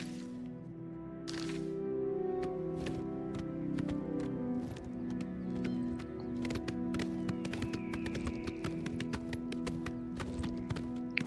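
Horse hooves gallop in Oblivion Remaster, a steady rapid clip-clop that runs the whole time over a bed of game music and ambience.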